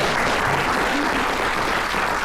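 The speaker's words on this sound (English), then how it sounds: "round of applause for that." A comic con audience applauds loudly and steadily, dense clapping filling the whole moment without pause.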